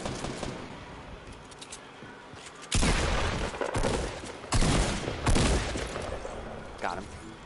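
Bursts of gunfire in a shooter video game, with sharp volleys of shots clustered around the middle of the stretch over a steady game background.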